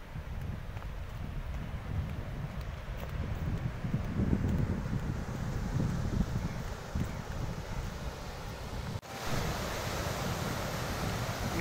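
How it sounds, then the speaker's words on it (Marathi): Ocean waves break on the beach at Ganpatipule on the Konkan coast as a steady, fairly loud surf roar with no distinct crashes, briefly dipping once near the end. "लाटा एवढ्या मोठ्या मोठ्याने येतात ना, खूप जोरात जोरात लाटा येत आहेत"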